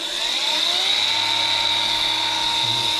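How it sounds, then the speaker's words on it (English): A cutoff wheel grinds through metal on an old minitruck, a loud, continuous high whine held steady and close, with no talking. "C stands for cutoff wheel"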